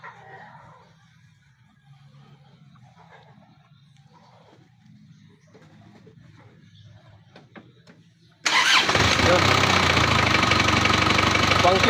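A quiet workshop with faint clinks gives way to a freshly overhauled Isuzu 4JA1 diesel engine suddenly starting on the first try and running loudly and steadily, its low rumble filling the rest.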